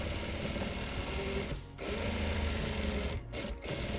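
A sewing machine runs in a fast, steady motor buzz while stitching back and forth over a tote bag corner, stopping briefly three times before starting again.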